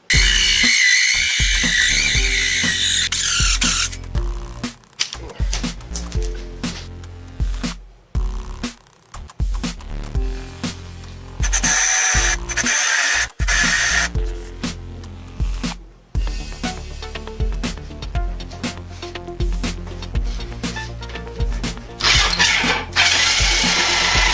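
A loud, continuous mechanical grinding and ratcheting of a corded drill working through PVC, with brief pauses and restarts throughout.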